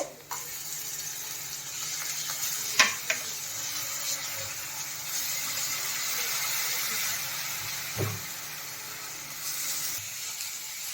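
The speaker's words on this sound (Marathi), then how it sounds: "आता आपण याच्यात आलं लसणाची पेस्ट टाकून घेणार आहे." Ginger-garlic paste sizzling in a pan with golden-brown onions for a cashew curry: a steady, moderately loud frying hiss throughout, with a few sharp clinks from a utensil.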